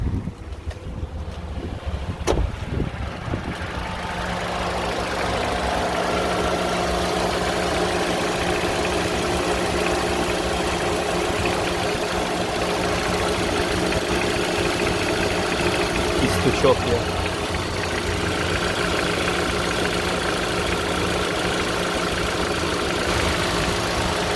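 A 2010 Mitsubishi Lancer engine idles steadily after a test start with the engine already warm and the climate control switched on, a constant low hum running for most of the stretch behind wind noise and some talk.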